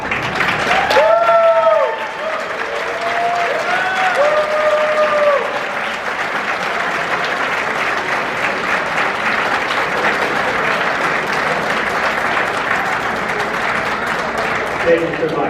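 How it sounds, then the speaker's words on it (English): Sustained audience applause for current and former state legislators at a political event, a dense wash of clapping from a large crowd, loud and steady throughout with a few voices calling out early on. "we sure the heck give them a nice round of applause"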